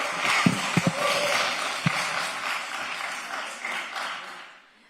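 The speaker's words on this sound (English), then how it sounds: "We are not clapping in chambers." Audience clapping in a city commission chamber, a broadband wash of many hands with a few sharper nearby claps, sustained for several seconds before fading out.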